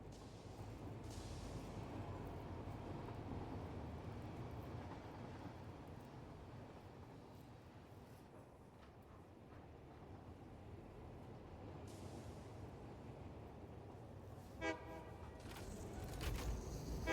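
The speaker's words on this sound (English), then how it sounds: "Time to go for a ride on our train lines." Train rolling along rail lines in the factory-building game Satisfactory, a steady rumbling low drone that holds throughout without a break, with a short brighter tonal burst near the end and no talk over it.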